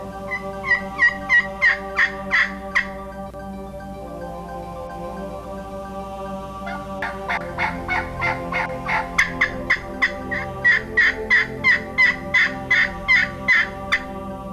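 A wild turkey gobbles in bursts of rapid rattling notes, an opening volley, then a longer series of repeated gobbles, clear and fairly close.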